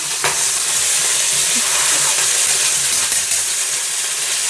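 Ginger frying in hot oil in a home kitchen, a steady loud sizzle with a few sharp crackles and pops running throughout, no voices.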